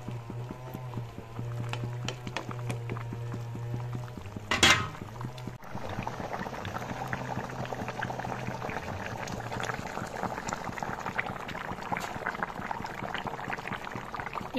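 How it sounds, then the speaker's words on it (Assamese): Fish curry simmering in a pot on the stove, a continuous bubbling boil with soft popping and gurgling, close and fairly quiet, with a brief clatter partway through. "এইখিনি আৰু মই এনেদৰে 5 মিনিট সময় উতলিবলৈ দিম।"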